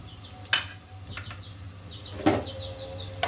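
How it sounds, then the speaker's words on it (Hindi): Chopped ginger and garlic sauté in a pan with a faint, steady sizzle, broken by a few sharp clinks and scrapes of a utensil against the pan. "इसको हल्का सा सौते करूँगी ताकि इसकी अच्छी सी अरोमा जो है वो आ जाए।"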